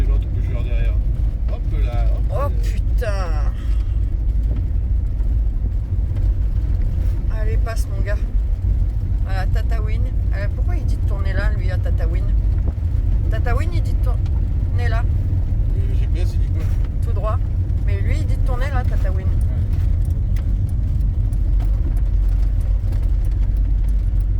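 A car drifts on a sandy desert track in southern Tunisia, with a steady roar of engine and tyre noise running throughout while people talk loudly over it inside the car.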